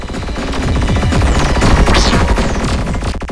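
Rapid automatic gunfire from a machine gun in the Tachyon Project video game rattles continuously and loudly, a dense unbroken burst of shots layered over heavy low rumble with no pauses.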